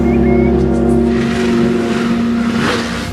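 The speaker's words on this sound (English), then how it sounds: "It's like something's revving up." A motor engine hums and revs with a steady, droning tone that rises slightly in the middle, heard fairly close and alone with no talking.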